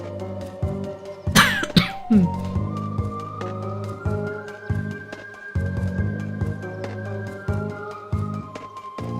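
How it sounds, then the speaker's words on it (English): Repeated coughing and throat clearing from one person, fairly close, in short irregular bursts with one sharp, harsh cough standing out among softer ones. "I can't stop coughing"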